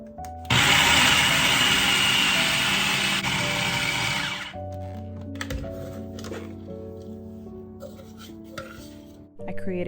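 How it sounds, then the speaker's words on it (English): A food processor whirs loudly for about four seconds as it blends egg, flour and starter into a dough, then cuts off, leaving quieter kitchen handling sounds and low hum for the rest. "I blend it until it comes together in my food processor."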